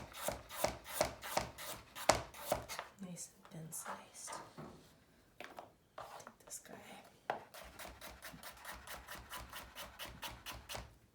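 A knife thinly slices radish on a cutting board, making rapid, steady crisp taps in bursts with short pauses, close up, with soft rustling between runs of cuts.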